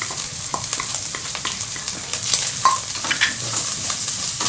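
Shredded tongkol tuna sizzles and crackles in hot oil in a pan while being stirred, with steady frying hiss and scattered scraping clicks of the utensil close up, no talking.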